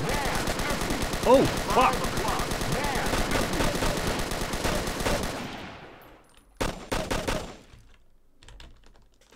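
A machine gun in the Operation Flashpoint video game fires long, rapid continuous bursts during a zombie outbreak, loud and dense for several seconds. It then cuts off and gives way to a few short separate bursts, and someone swears once.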